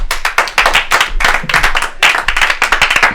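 A comedy club audience at a live stand-up show claps in a brief, close burst of sharp individual handclaps.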